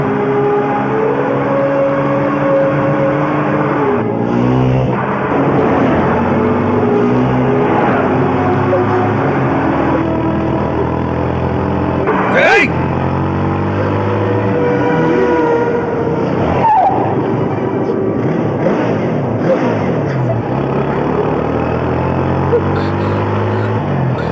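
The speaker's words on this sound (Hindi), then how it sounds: "गाड़ी और तेज चलाओ।" A car is driven fast during a chase, engine revving and shifting through rising and falling pitches with brief tire squeals, loud and continuous under urgent shouted voices.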